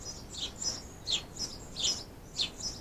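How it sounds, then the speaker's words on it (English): A small bird chirps repeatedly outdoors near a wooden deck, its bright high calls coming in short bursts about every half second, fairly close and clear against a soft background. "the little bird has come to join us"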